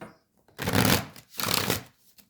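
Two quick bursts of tarot cards being riffled and shuffled, close and crisp, separated by a short pause.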